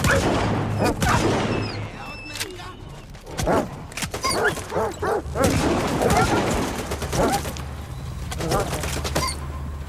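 Sharp dog barks and yelps mixed with bursts of gunfire, loud and close, with a voice speaking at times amid the chaotic action of S.T.A.L.K.E.R. 2: Heart of Chornobyl.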